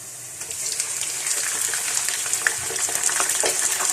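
Chicken pieces dropped into a pan of light-browned sliced onions, frying with a steady bright sizzle and hiss that grows slightly louder, with faint stirring scrapes, no talking.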